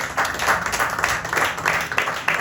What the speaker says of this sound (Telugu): కొట్టలు గట్టిగా చప్పట్లు.